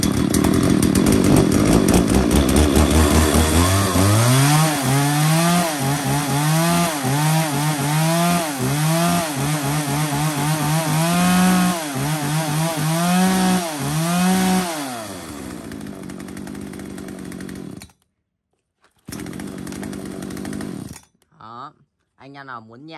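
A used Japanese 34cc chainsaw engine runs in a test. The loud two-stroke motor is revved up and down in a steady rhythmic series of surges, then cuts out, with a brief sputtering restart near the end.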